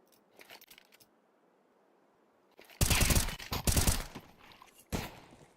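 Gunfire in a competitive Counter-Strike-style shooter match, with faint clicks early, then a loud close burst of rapid shots, a short pause, and a final sharp shot, with no talking.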